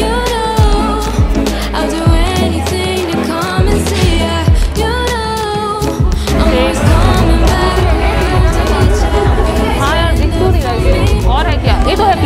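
Dense crowd chatter and bustle inside a busy chai bar café where young people gather, a steady indoor babble with music and clatter running throughout.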